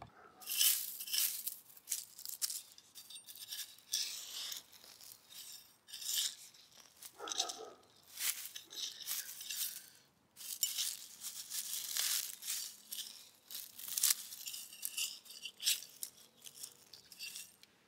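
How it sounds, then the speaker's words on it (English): Garden soil being loosened by hand around a clump of sprouted garlic cloves, giving repeated close gritty scraping and rustling that comes and goes in uneven bursts, with no talking. "now that I've loosened up the soil, let's see if we can get this guy out of here."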